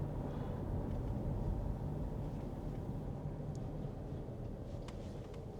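Steady low rumble inside a moving Subaru Forester cabin, a constant engine and road drone with faint ticks near the end.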